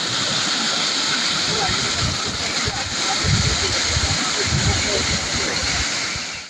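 The Miyang river, flooded by heavy monsoon rain in northeastern India, rushes past as a dense, continuous roar of churning water. It stays loud and even throughout, with a voice speaking over it.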